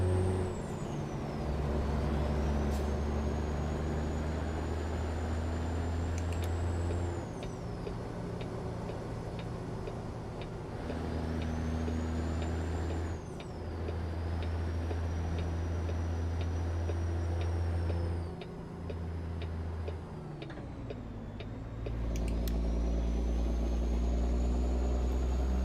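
A Peterbilt truck in American Truck Simulator runs with a deep, steady engine drone and rising and falling whine. Sharp hissing air-brake releases and a ticking indicator come and go over the engine.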